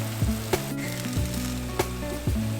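Sausage sizzles and fries steadily in its own grease in a pan, a continuous crackling hiss with a few louder pops and spatters throughout.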